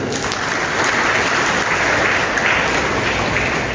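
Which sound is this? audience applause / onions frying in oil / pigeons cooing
audience applause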